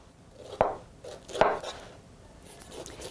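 A knife slicing the skin off a pineapple from top to bottom, two distinct crunchy cuts about a second apart, close, with a fainter scrape afterward and no talk.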